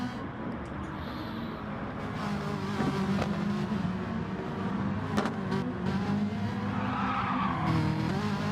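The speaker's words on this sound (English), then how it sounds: "See a puff of smoke there as JC locks up a rear tyre" Racing car in a racing video game locking up a rear tyre: a steady engine drone with a skidding tyre squeal layered over it, continuous and moderately loud, with no voices.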